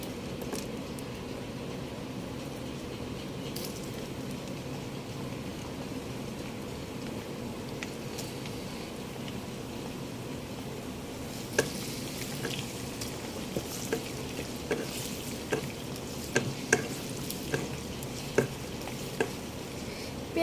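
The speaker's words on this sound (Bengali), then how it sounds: "তেল গরম হয়ে গেছে, এখন আমি পেঁয়াজ কুচি দিয়ে দেব।" Chopped onion fries in hot mustard oil for a home-style beef curry, with a soft, steady sizzle throughout and, in the second half, sharp utensil clicks and scrapes from stirring.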